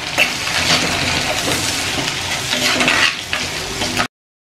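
Onion sautéing in hot oil with cloves and cinnamon for village-style fish kuzhambu, a dense continuous sizzle with occasional scraping of a ladle against the pan, close and steady, no voices, ending abruptly.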